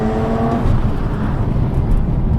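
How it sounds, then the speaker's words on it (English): A 2020 Toyota Camry TRD engine drones under load as the car pulls away on a race track, with steady road and engine noise close by. "And we're off in TRD 2020 Camry."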